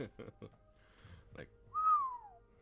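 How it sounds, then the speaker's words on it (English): A person whistles in amazement, a single clear rising-then-falling tone. Brief speech comes first and the whistle then sounds alone at moderate loudness. "the first thing I do is instinctively just like whistle"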